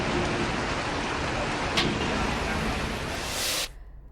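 Heavy rain pours steadily onto flooded streets in Varanasi during days of continuous downpour, a dense broadband hiss that runs unbroken and then cuts off abruptly near the end.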